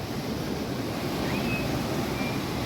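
Steady surf rolls onto a beach at Isipingo after flooding, the sea discolored and full of debris; a continuous broadband wash of breaking waves with some wind noise, close and fairly loud, no speech.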